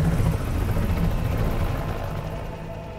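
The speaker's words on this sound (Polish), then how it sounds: "Wi, jak ten śmigłowiec nas dorwie, będziemy bez szans." A helicopter in the video game Cyberpunk 2077 gives a loud, steady low rotor rumble with a faint pulsing throb that slowly fades slightly, and no speech over it.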